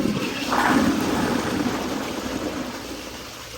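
A Kohler Kingston 1.6 gpf toilet flushes during a toilet paper clearing test, giving one steady rush of water with a brief louder surge near the start before the flow settles and slowly fades.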